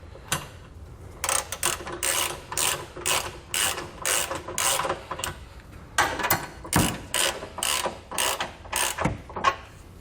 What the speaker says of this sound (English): we want to go ahead and take our ratchet here and again our 22mm socket. We're just going to touch everything up to make it nice and snug